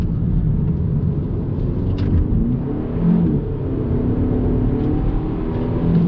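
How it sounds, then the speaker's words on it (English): A 2021 Hyundai Elantra N Line is braked and downshifted into third gear for a right-hand bend, heard from inside as a loud, steady engine and road rumble with a brief rise in revs. "On the brakes, downshift, third gear, right-hand bend."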